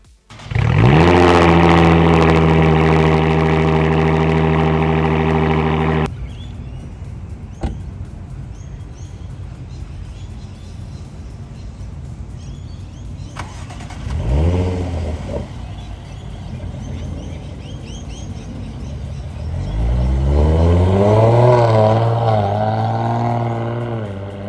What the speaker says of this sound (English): I'm keen to hear this V6 supercharged sound